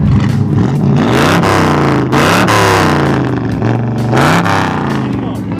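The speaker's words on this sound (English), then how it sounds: "Would you blip the throttle? It sounds so good." An American muscle car engine revs in loud, repeated throttle blips, each surge rising and falling close by, with voices talking over it.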